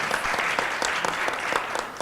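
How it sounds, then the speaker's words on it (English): Audience applause at a documentary commissioners' and buyers' panel, a dense, even patter of many hands clapping together at moderate loudness from start to finish. "Please give a round of applause."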